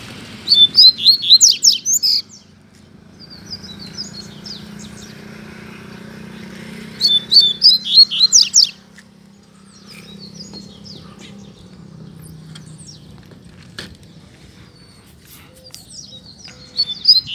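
A double-collared seedeater sings loud, rapid bursts of bright whistled notes near the microphone, two main phrases with quieter chirps between, over low background hum.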